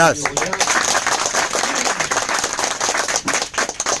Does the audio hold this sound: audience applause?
yes